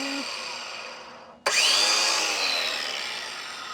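A cordless Ryobi saw with a 5.5-inch, 24-tooth blade switches on abruptly and spins up to a loud, steady high-pitched whine, close by, then slowly winds down as it coasts.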